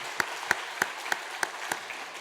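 A church congregation claps to welcome a new member during a Sunday service: six sharp, evenly spaced claps ring out over a quiet room, sounding thin and sparse rather than a full ovation.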